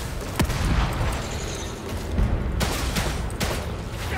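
Shotgun blasts in The Evil Within 2, a few sharp booming shots spaced a second or so apart over a dense, rumbling backdrop of game noise and combat effects.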